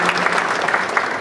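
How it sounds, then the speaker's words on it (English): A short burst of audience applause, many hands clapping steadily throughout. "You can clap, yes."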